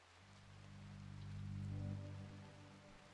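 Steady rain falling in the RimWorld video game, a continuous even hiss that swells slightly in the middle and then eases, with no other sounds over it.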